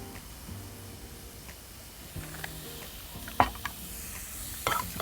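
Shiitake mushrooms and onion gently sautéing in olive oil over very low heat, with a faint steady sizzle, stirring scrapes and a couple of sharper utensil clacks near the pan.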